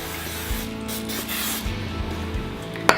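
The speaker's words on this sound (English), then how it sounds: "then spray the top of the dough" Canola oil cooking spray hisses onto the top of pizza dough sitting in an oiled bowl, a soft, steady spray heard up close with no voices.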